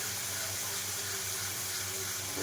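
Water pours steadily into a pan of Bengali koi fish and potato curry, a continuous close splashing stream with no talk.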